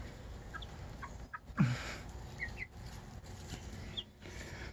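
Young chickens in a coop, about twelve weeks old, cluck softly and sporadically nearby, a few short calls scattered over steady low background noise.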